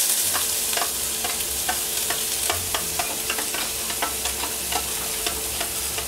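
Onions sizzle and fry in smoking-hot olive oil in a cast-iron pot, a steady close crackle with sharp pops scattered throughout and stirring scrapes, no talking.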